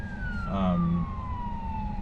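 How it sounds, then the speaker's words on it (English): Ambulance siren passing by on a road, a sustained wailing tone that slowly falls in pitch as it moves away, moderately loud over steady traffic rumble with a brief vehicle noise in the middle. "Sounds like we're gonna get the ambulance right now."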